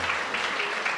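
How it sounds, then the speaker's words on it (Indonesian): Brief burst of studio audience applause at a televised comedy roast, dense hand clapping lasting about a second. "boleh tepuk tangan loh"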